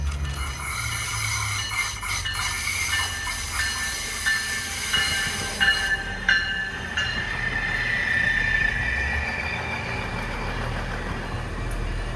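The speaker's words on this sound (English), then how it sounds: "here's a southbound arrival into the Santa Rosa downtown station" A southbound SMART commuter train rolls into the Santa Rosa downtown station, its wheels squealing and screeching on the rails over a low rumble that grows steadier as it slows.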